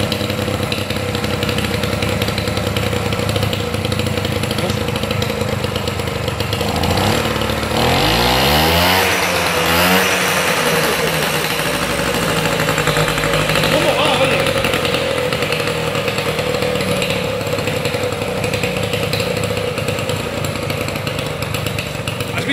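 A Vespino Sport moped engine that sat unused for years runs with a raspy, buzzing two-stroke drone, swelling in a couple of throttle surges midway, while someone talks over it in Spanish.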